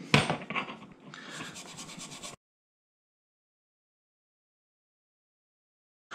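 Scrubbing old finish off an 1858-pattern Remington percussion revolver replica, a close, brisk rubbing and scratching for about two seconds before falling silent, with no voices.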